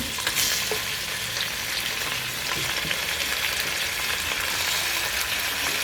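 Chicken pieces stir-fried in a pan for tinola give a steady, close sizzle with faint scraping of stirring underneath, continuous and even for several seconds, no talking.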